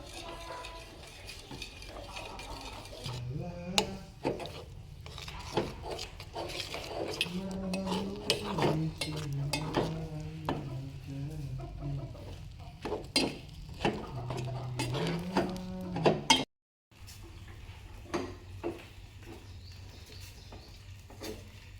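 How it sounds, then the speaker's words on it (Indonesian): Batter for palm-kernel-shell briquettes stirred in a pot over low to medium heat, a utensil repeatedly scraping and knocking against the metal in a steady, close rhythm for most of the stretch, with a brief dropout near the end. "Dalam pembuatan ini terus kita aduk hingga adonan berbentuk bening."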